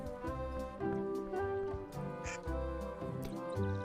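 A cartoon duck in the adventure game Return to Monkey Island quacks a few times over steady game music, a short squawk standing out near the middle.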